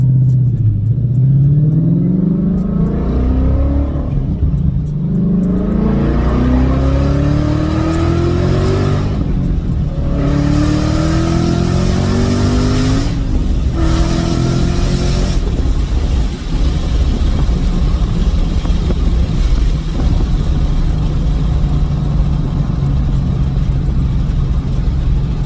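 A car engine revs and rises in pitch through several gear pulls while driving, loud and close with a steady road rumble underneath, then settles into a constant cruising drone.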